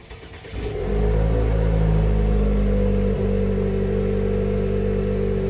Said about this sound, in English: let's go ahead and do a cold start on this car